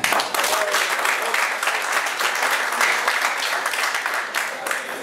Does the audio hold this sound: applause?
yes